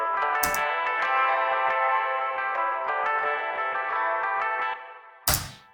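Two guitars in a nu-cumbia track play a sustained melodic line together with a soft echoing tail, bracketed by short sharp noise bursts at start and end.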